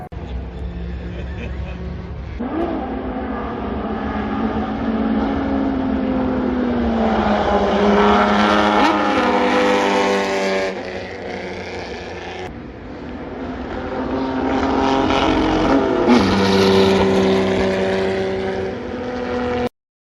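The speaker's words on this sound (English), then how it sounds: "Now we move into the night session, seeing what the cars can do" Classic race cars run a night session at the Le Mans Classic 2022, their engines swelling loudly as they pass close by, fading away, then another car roars past.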